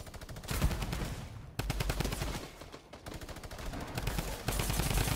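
Drum gun fire in the Fortnite battle royale game, rapid automatic bursts in several long strings broken by short pauses, loud and close with no talk.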